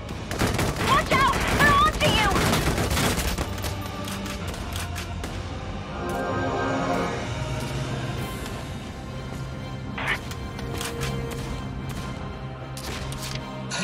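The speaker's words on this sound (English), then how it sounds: "The enemy's firing back!" Enemy gunfire in Valkyria Chronicles 4 during a battle aboard a cruiser, a loud crackling fusillade of rapid shots that thins into scattered reports over music and game sounds.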